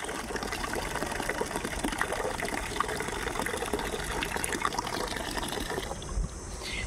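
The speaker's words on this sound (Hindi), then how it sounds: "लो एक पानी की बाल्टी भर गई है" Water pours into a bucket outdoors on a hot day in a steady, full gushing splash that holds at even loudness throughout, with no voices.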